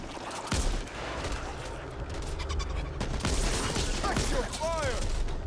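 Gunfire from Back 4 Blood: overlapping shots and bursts crackle loudly throughout, mixed with voices talking over the shooting.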